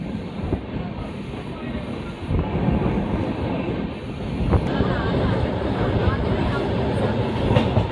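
Express train 16334 from Trivandrum Central rolls onto a railway bridge, its carriages rumbling loudly with rhythmic wheel clatter and occasional high squeals from the rails, a voice speaking briefly over the noise.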